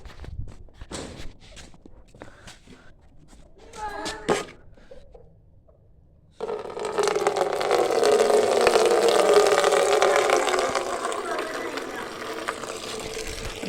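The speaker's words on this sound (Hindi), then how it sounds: "तो अब हम पानी भरते हैं जी दोस्तों" Water pours steadily from a pump or tap to fill drinkers for poultry, a continuous rushing stream that begins abruptly after some footsteps and handling noises with a brief voice.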